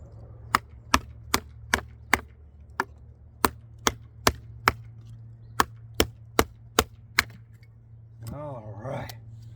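A knife carving a knotty piece of wood: a series of sharp, evenly spaced clicks and snaps, about a dozen and a half, cut through a low steady hum, followed by a brief faint voice.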